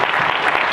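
Brief burst of audience applause at a refugee conference, dense and fairly loud, a continuous wash of many hands without distinct individual claps.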